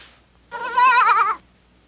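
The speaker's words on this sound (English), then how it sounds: "A goat?" A single loud, close goat bleat lasts under a second, with a wavering vibrato, and is heard alone with no talk.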